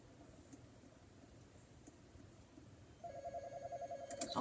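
A telephone rings in the Roblox game The Border Shift, starting partway through as a loud, steady electronic trill that repeats over a faint, quiet background hum.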